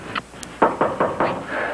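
Several sharp knocks on a door in a 1950s television drama, a quick series of about five loud raps, close and dry, following a faint earlier tap.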